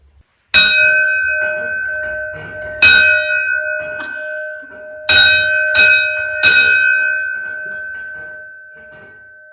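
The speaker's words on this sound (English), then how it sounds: "And so we salvaged this bell, which I'm very proud of, and that Juliette thoroughly enjoys." A salvaged bell in a castle rings loud and close in four or five ringing strikes, each with a long clear tone that hangs on and overlaps the next.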